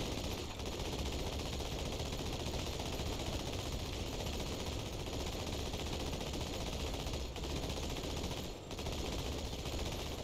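Sustained machine gunfire from Marines in the video game Halo 2 rattles on without a break, a dense, steady barrage of rapid shots with only one brief dip near the end.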